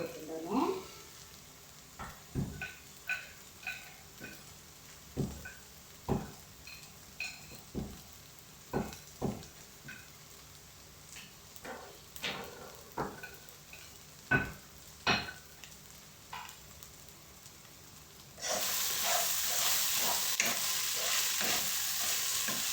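Curry frying in a pan, sizzling steadily while a utensil scrapes and stirs in repeated clacks, with a sudden louder hiss of frying near the end.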